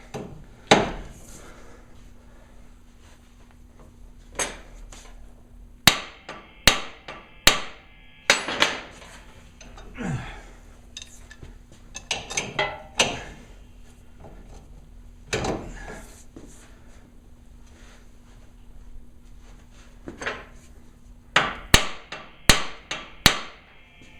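Light hammer blows strike near the ball joint on a 1998 GMC K1500 to shock it loose, arriving as sharp irregular metallic hits in small clusters with quiet gaps.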